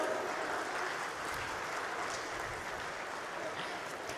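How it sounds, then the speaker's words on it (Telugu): Audience at the hmtv Corona Frontline Warriors awards ceremony applauding, a steady, dense patter of many hands clapping, moderately loud and sustained without pause. "ఒకసారి గట్టిగా చప్పట్లు."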